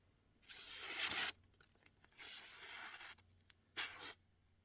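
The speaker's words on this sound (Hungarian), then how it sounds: "Fenés előtt egy papírvágást teszt ugye a sérült pengével." A damaged scandi knife blade slices through paper in three separate rasping strokes, two longer cuts followed by a short one, close and fairly quiet with silence between.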